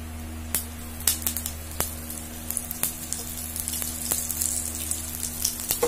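Urad dal, chana dal and curry leaves fry in oil in a pan with a steady low sizzle, broken by sharp pops and spits at irregular intervals, close and alone.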